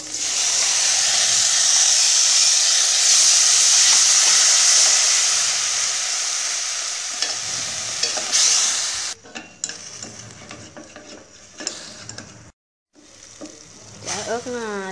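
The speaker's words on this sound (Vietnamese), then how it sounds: "Ớt nó sôi lên" Lemongrass and chili stir-fried in hot oil for steamed apple snails, a loud steady sizzle and hiss for about nine seconds, then quieter intermittent frying and stirring sounds with brief pauses.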